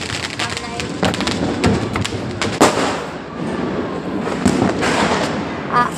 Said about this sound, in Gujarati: હાલો આપણે ઉપર જાય જોઈ લઈ કેવા ફટાકા ફૂટે છે